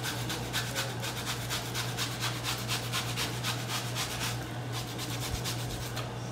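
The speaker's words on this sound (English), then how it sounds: "I'm gonna get my plantain and I'm gonna get my little scraper here and I'm just gonna scrape some" A small scraper rasps against plantain over a pot, a continuous rhythmic scraping heard close and fairly loud with no talking.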